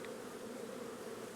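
Honey bees at an open hive on a farm in October give off a steady, even buzzing hum, soft and constant throughout with no talk over it.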